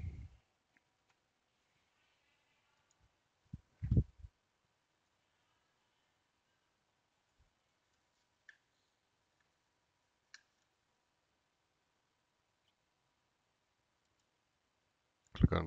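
Computer mouse clicks on a Windows PC while opening Word, a few sparse, quiet clicks scattered across a mostly silent stretch, with a small cluster near the start.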